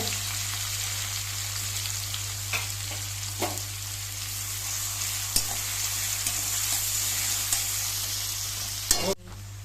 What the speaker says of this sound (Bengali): পেঁয়াজটা আস্তে আস্তে ফ্রাই করব।